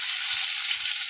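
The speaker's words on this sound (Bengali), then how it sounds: "ভেজে নেবো লঙ্কাটা যতক্ষণ না ভাজা হয়।" Dry chillies frying in hot oil in a pan over a high gas flame, giving a steady, close hiss of sizzling with faint low stirring knocks.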